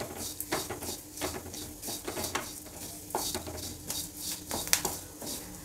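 Curry leaves on their stems and whole spices dry-roasting in a pan for a home-style rasam, with a soft crackling sizzle broken by repeated scraping stirs of a spoon against the metal, close and fairly quiet.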